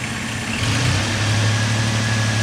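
A Ford Ranger truck engine idles after intake work, a loud steady low rumble with a faint whine, close and continuous with no talk.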